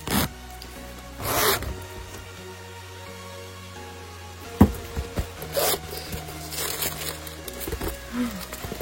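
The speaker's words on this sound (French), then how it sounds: "Donc, on va l'ouvrir. Vous voyez, il y a une petite fermeture éclair bleue." A small blue zipper on a Pokémon card binder is pulled open in several quick rasping strokes, close and crisp, with soft rubbing and handling noises between pulls and no talking.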